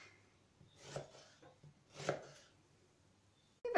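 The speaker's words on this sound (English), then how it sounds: "to put the onions in the electric slicer, we're gonna cut it vertically and horizontally in smaller pieces" Knife cutting an onion vertically and horizontally into small pieces on a board, a few soft, spaced thuds, quiet and close, with a sharper knock at the end.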